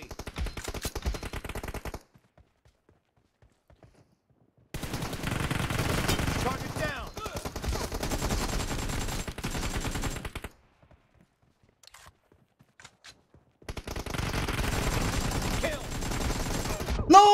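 Bursts of automatic gunfire from PUBG Mobile, several seconds long and close, separated by near-silent gaps, with a louder final pop at the end; no talking over the shots.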